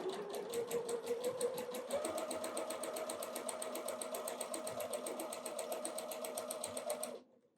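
A sewing machine stitches quilt fabric in a fast, steady mechanical whir with a rapid regular needle rhythm, running close and alone for about seven seconds before stopping abruptly.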